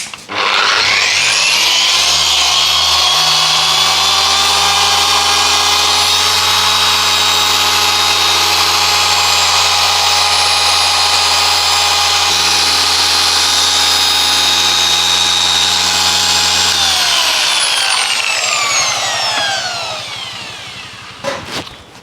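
A Rupes power polisher running steadily on a car bumper to remove a scratch, with a loud continuous whirring drone, smooth and unbroken for most of the run before spinning down and stopping.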